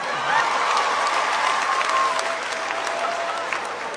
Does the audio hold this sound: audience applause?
yes